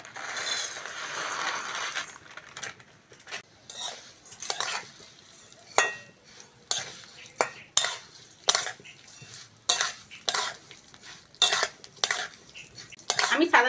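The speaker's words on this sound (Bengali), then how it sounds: "সাদা তেলের মধ্যে সিমইটা দিয়ে দেবো।" Vermicelli (semai) being stirred in white oil in a pan, a string of sharp scraping and clinking spatula strokes against the metal, irregular and close, with faint sizzling underneath.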